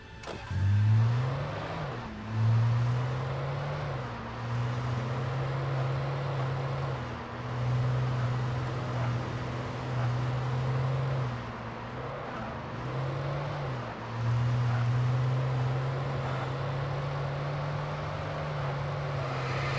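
A car in the video game Alan Wake drives along with a steady mid-pitched engine hum, rising in brief revs every few seconds as it accelerates and shifts, close and continuous with no talking.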